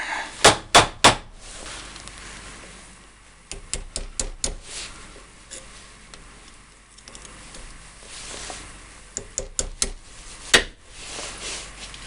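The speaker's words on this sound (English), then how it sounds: "I'm just taking a smaller hammer" A small hammer knocks on a metal Jeep axle U-joint in quick bursts, a few sharp taps, then a pause, then more clusters of close, ringing strikes.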